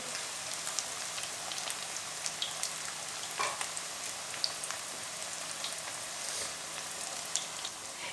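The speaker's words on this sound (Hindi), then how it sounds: "तो बिल्कुल हमने हल्की आंच पे इनको निकालना है। इस तरह से हमने डाल दिए। अब एक साइड से पकने देंगे।" Bread and mixed-vegetable pakoras fry in oil over low heat, giving a steady, even, close hiss like light rain with tiny scattered pops throughout and no voices.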